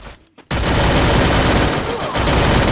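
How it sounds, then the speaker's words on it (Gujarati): Sustained, loud burst of MP5 submachine gun fire in a shooter video game, starting abruptly after a brief quiet moment and continuing as dense rapid fire to the end. "જુઓ, ચલો હવે હેડશોટ MP5 ફેર મારો કોશિશ તો કરીશું."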